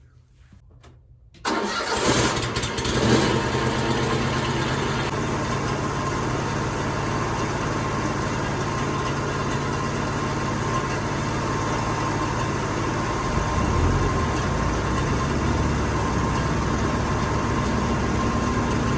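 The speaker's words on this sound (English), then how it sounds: "Both machines are running. The sawmill's running, warming up. The skid steer's running, it's warming up." An LT35 Woodmizer sawmill engine and a skid steer engine start up, then settle into a loud, steady idle as both warm up together, running continuously with no talking.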